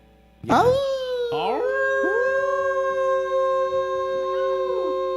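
A group of people howl like wolves, voices imitating the sound: one long rising howl begins, others join in layered overlapping tones, sustained loudly for several seconds in a casual indoor music session.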